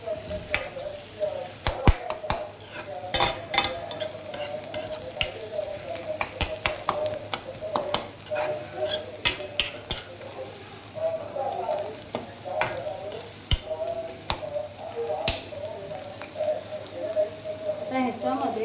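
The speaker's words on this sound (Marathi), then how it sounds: "कांदा शिजेपर्यंत परतून घ्यायचं." Onions are sautéed in a pan while being stirred, giving a steady sizzle with repeated scraping and clinking of a spoon against the pan throughout. Speech appears to be nearly absent.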